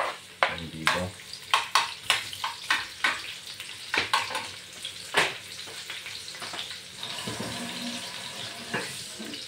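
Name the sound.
sautéing onions and chili in a pan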